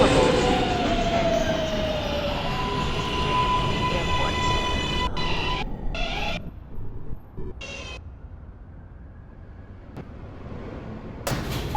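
Brooklyn-bound J local subway train riding between Broadway Junction and Jamaica Center, a steady loud rumble of wheels and motors with whining tones and brief clanks, easing quieter midway, with a voice faintly present.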